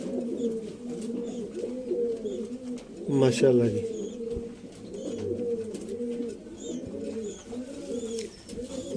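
Teddy pigeons coo in deep, rolling bursts that repeat steadily through the clip, close and clear, while someone speaks briefly over them partway through.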